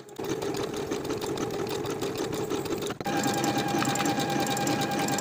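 A sewing machine sews a stretch stitch seam on knit fabric, a loud, steady, close mechanical hum with a brief pause before it resumes at a slightly different pitch.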